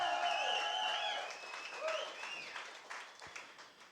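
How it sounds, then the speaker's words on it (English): An audience claps to welcome a guest on a Green Bay sports talk show: a broad burst of applause that starts full and then tapers off gradually, with a few thin tonal sounds mixed in and a sharp knock near the end. "let's welcome our guest with the same applause"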